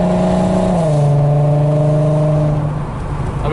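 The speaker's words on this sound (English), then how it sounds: "I'm in sport mode right now because the downshifts in sport mode used to be really brutal and jerky" A Volkswagen MKV R32 with the 3.2 VR6 and an engine mount insert, driving in sport mode, hums loud and steady from inside the cabin, its engine note dropping in pitch at a downshift early on, then holding level.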